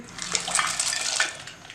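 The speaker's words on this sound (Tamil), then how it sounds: "இப்போ இந்த பூந்தி கொட்டையை எடுத்து வச்சுருக்க தண்ணியில் போடுறேன்" Soapnuts drop into water while homemade herbal shampoo is prepared, producing a short burst of close splashing and sloshing that fades quickly.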